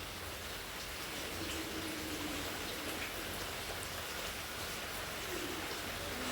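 Steady rainfall in Kasaragod, Kerala, a dense even patter of drops that carries on without pause, with no voices.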